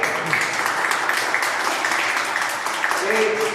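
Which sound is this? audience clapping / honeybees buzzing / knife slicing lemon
audience clapping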